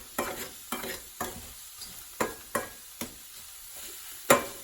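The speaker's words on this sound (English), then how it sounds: "And I just kind of keep stirring it around." An oil-free stir fry is stirred around a hot pan, with a spatula making seven evenly spaced scraping strokes over a light sizzle, close and fairly quiet, with no talk.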